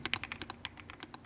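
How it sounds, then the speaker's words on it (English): Keys clacking on a Keychron Q5 Ultra keyboard fitted with silk POM banana switches, a quick, even run of soft, smooth strokes close up, with no voices. "Let's test out this banana switch"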